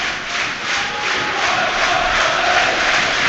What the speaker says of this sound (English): And you can hear the home crowd